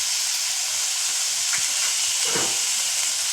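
Salted chickpeas and masala for a Kerala kadala curry sauté in a pan with a loud, unbroken hissing sizzle, marked by a couple of faint stirring scrapes.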